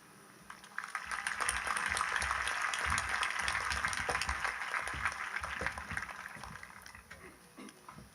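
A crowd applauds graduates at a 2020 high school graduation ceremony, a sustained, fairly distant wash of clapping that swells, holds for several seconds, then gradually thins out.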